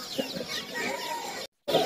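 Native chickens clucking and chirping steadily nearby amid a busy pet market hubbub on Galiff Street, Kolkata, with a brief cut to silence near the end.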